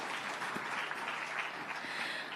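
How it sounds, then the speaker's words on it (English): Audience applause at a business conclave after a panel discussion, a steady, moderately faint round of clapping from a seated crowd in a hall, continuous and without talking. "I'm sure they deserve a bigger round of applause"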